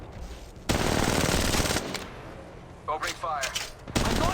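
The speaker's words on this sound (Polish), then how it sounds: "Jeszcze jeden strzał" Bursts of rapid automatic gunfire ring out in the mobile battle royale game Apex Legends Mobile, loud and close in two long volleys with a gap between, while a player's voice talks briefly in the pause.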